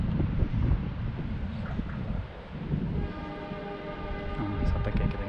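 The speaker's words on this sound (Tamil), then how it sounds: "ட்ரெயின் வந்துக்கிட்டு இருக்கு." A train approaches near a resort in Ooty, a steady rumbling rattle with wind noise that builds gradually, joined near the end by a sustained tonal hum from the approaching train.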